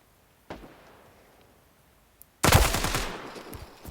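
Quiet at first, then a short sharp shot, followed by a loud burst of rapid automatic gunfire with ringing echoes, game weapons firing close by in Standoff 2.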